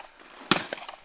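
A single sharp shotgun blast at a Norwegian clay pigeon shooting championship, loud and close, followed by a short decaying echo and a couple of fainter outdoor knocks.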